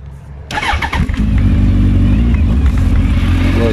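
A Suzuki GSX 1400 motorcycle with an aftermarket exhaust fires up after a brief quiet moment, then its engine revs in a few quick blips before settling into a loud, steady, close-range roar.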